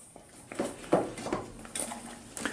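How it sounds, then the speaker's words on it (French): Crème fraîche being whisked gently by hand in a bowl, giving soft irregular clinks and scrapes of the whisk against the bowl, close and fairly quiet, with no talking. "Je vais commencer donc à fouetter tout ça,"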